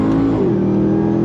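A 2024 Hennessey Ram TRX Mammoth supercharged truck, its 8-speed automatic shifted manually, accelerates hard with a loud, close engine roar that steps down in pitch as a gear change lands, then pulls on steadily.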